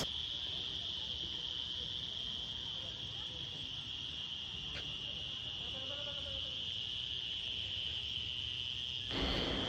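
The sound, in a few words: crickets chirping at dusk in a rural resort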